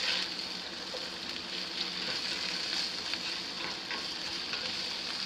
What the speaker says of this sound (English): let's go ahead and stir these home fries.